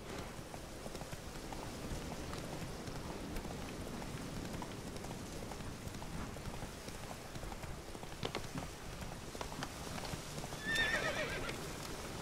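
Roach, a horse in the Witcher 3 video game, gallops with a steady rhythmic clip-clop of hooves and lets out a short neigh near the end, quiet and without talk.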